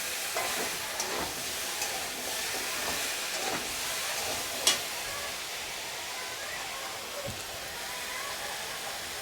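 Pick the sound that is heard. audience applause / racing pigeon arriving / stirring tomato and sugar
stirring tomato and sugar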